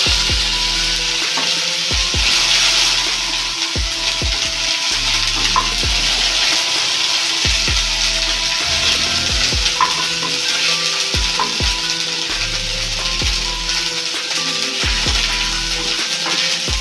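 Ginger paste sizzles steadily in hot oil for a curry, and a spoon scrapes and clacks against the pan in repeated strokes, close and fairly loud throughout.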